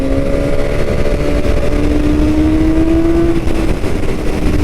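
A 2021 BMW S1000R motorcycle rides country lanes under a loud, steady engine roar with rising pitch under partial throttle, continuous wind and road rumble, no talking.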